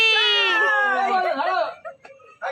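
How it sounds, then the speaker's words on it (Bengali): A loud, close, drawn-out meow rises and wavers, followed by a couple of shorter, softer mews. "ওরা শুধু ম্যাও ম্যাও ম্যাও করে যাচ্ছে।"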